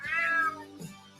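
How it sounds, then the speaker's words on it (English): A cat in a video game gives a single drawn-out meow, rising then falling, with a short second vocal note trailing after; close, clear and without voices. "Damn cat."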